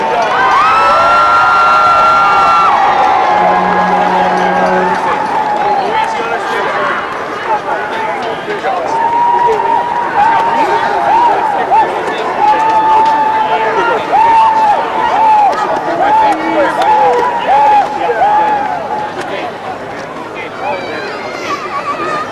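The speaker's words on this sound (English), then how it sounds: "Let's give both teams a great round of applause." A crowd cheers and shouts at a 2005 provincial high school football final between QEH and CEC, honouring both teams. The sustained, loud roar of many voices continues for over twenty seconds with some chatter mixed in.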